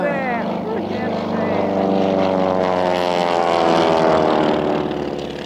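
Gee Bee R-2 racing airplane, a 1930s-style radial-engine racer replica, roars past loudly with a sustained droning engine note that builds and swells as it nears, while people talk excitedly over it.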